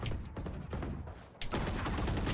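Rapid gunshots in a shooting video game, a dense crackling volley that briefly dips and then resumes louder and fuller, close and continuous without clear speech.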